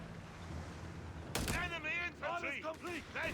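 Gunfire and anti-tank rocket blasts from a Company of Heroes 3 battle, with a sudden loud burst followed by repeated whooshing, warbling launches and impacts, heard alongside game audio rather than speech.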